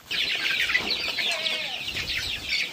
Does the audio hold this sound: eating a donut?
no